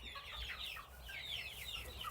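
Backyard chickens cluck and chatter softly in a low, continuous murmur of short, overlapping calls under a low background rumble, with no voices.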